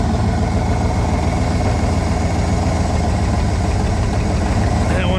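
A junkyard Chevy Impala wagon engine idles steadily during a cylinder balance test, a loud, continuous, slightly uneven rumble that runs unbroken through the whole stretch.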